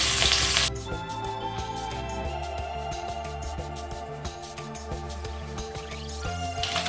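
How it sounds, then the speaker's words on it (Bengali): Salted rohu fish pieces fry in hot oil in a pan, giving a steady, close sizzle and crackle that continues throughout, with no one speaking. "এবার সেগুলোকে আমরা একটা একটা করে ভালো করে ভাজবো।"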